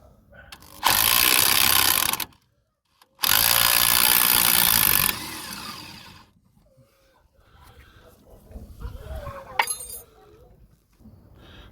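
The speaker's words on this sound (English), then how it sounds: "We've got the rattle gun on there," An impact wrench takes a 17mm nut off a Nissan Note during a CV boot replacement, two loud sustained rattling bursts close by, followed by quieter clinks and handling.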